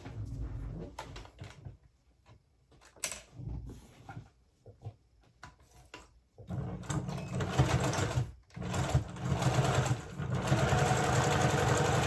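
Sewing machine stitching plaid fabric for men's pants, starting in short stop-start bursts with handling clicks, then running in steady continuous whirring runs, close and clear.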